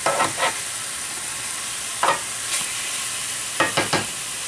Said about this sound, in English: Put it on high to sear it.